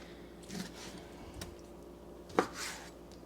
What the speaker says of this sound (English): So we're just chopping up the meat for the stew.